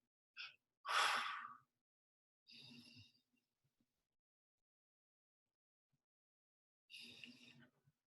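Deep, slow breaths come in through the nose and go out through the mouth in a calming breathing exercise. Several separate airy breaths sound close and soft, with a long quiet pause before the last one.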